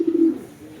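A bird coos briefly nearby, probably a pigeon or dove, a short soft low call lasting under a second in an otherwise quiet outdoor setting.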